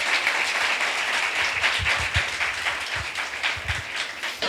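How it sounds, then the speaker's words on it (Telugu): A church congregation claps together, a dense, loud burst of applause from a crowd that carries on steadily throughout. "చప్పట్లు కొడదాం. హల్లెలూయా."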